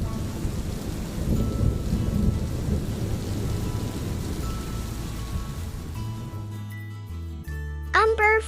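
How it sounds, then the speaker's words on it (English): Rain pours steadily through a stormy wash with low thunder rumble, then stops abruptly near the end, where a few short tonal chirps follow. "Then it rains. Drip drop,"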